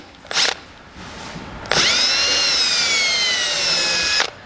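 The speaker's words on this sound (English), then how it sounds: "I'm just going to get some little pilot holes in here" A power drill bores pilot holes into a board during a gas tank conversion on a 1963–72 Chevy or GMC truck, with a brief spin-up, then one long, steady whine close by that stops abruptly.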